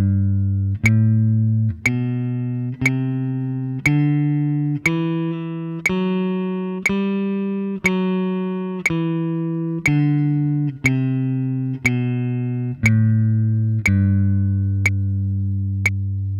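Guitar playing a major scale note by note, rising and then falling back down, each note plucked on a steady beat with a clear attack, loud and close with no talking.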